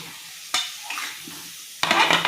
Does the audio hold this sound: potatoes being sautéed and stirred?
yes